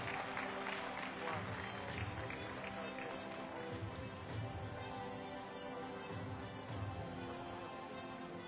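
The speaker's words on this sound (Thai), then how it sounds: "ขอเสียงปรบมือด้วยครับ" Faint, steady applause fills the room at the launch of a Thai tourism promotion project, a soft continuous patter of many hands with little else over it.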